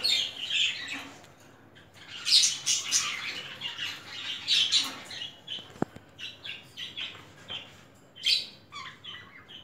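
Exhibition budgerigars in a breeder's setup give bursts of shrill squawks and chirps, several birds calling irregularly at close range with brief quiet gaps and one sharp knock partway through. No speech is heard.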